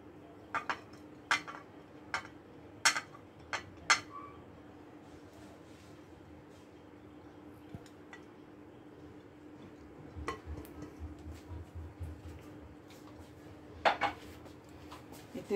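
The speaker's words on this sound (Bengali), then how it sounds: "আর এখানে একটা বড় বাটি নিয়েছি, তার মধ্যে সব এগুলো মিক্স করে নেব।" Cheese, onion, green chili, coconut and coriander being mixed in a big bowl, giving scattered light clinks and scrapes of a spoon against the bowl, soft and intermittent with a busier stretch near the end.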